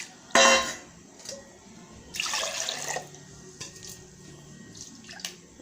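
Water is added to ground black kavuni rice in a wide vessel, with a sharp splash near the start and a longer, softer pouring burst after it, both close and quiet, against faint clinks and no voices.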